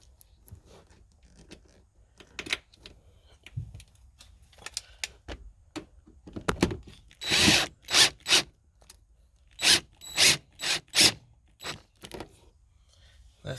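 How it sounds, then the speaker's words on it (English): Small clicking, scraping and ratcheting bursts from a screwdriver fastening a headrest TV part inside a 2012 Kia Forte coupe, irregular taps growing into quicker runs of close, sharp clicks. "I'm going to screw this down right quick first"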